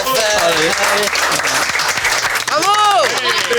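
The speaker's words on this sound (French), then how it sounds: "On n'a plus qu'à s'applaudir tous là maintenant" Loud, dense applause fills the whole moment, with voices and whooping calls rising over the clapping.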